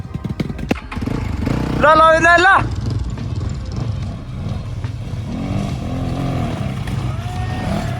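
Triumph motorcycle engine revs hard in a short burst of rising, wavering tone, then settles into a steady rumble on a street ride, with people talking nearby throughout.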